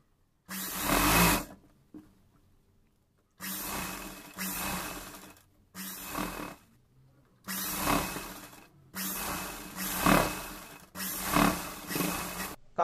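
A sewing machine stitches a double-folded neckline hem on a cowl neck top, running in about six steady motorized bursts separated by short pauses, close and clear with no talking.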